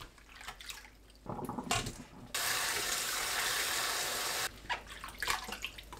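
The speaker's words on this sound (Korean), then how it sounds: "새우를 물에 가볍게 헹궈내세요." Shrimp are rinsed lightly under running tap water, with clattering handling and splashing before a steady two-second gush from the faucet, followed by more splashing and dripping, close by.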